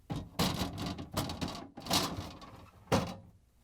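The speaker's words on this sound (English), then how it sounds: "we can put the drawer in, just line it up with the rails and push it in" A refrigerator drawer on a GE fridge being lined up and pushed back in on its rails, a series of close plastic slides, knocks and thunks with a final firmer clack.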